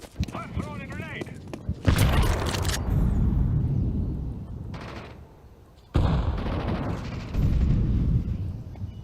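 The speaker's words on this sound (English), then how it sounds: "I'm throwing a grenade." Booming blasts from a grenade in a first-person shooter game erupt twice, loud and broad, with a short burst of voice chatter before the first.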